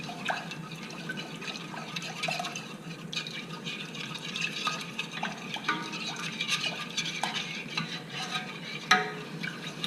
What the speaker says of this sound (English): Now you need to stir this constantly to the point where it's actually boiling, otherwise it'll go all lumpy.